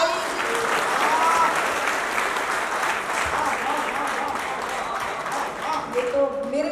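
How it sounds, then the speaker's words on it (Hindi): Audience applause fills a hall after a Hindi poem recital, a steady dense wash of clapping that holds loud throughout, with a few faint voices surfacing near the end. "ये तो मेरे लिए तो बड़ी अविश्वसनीय सी तालियां आपने बजा दी"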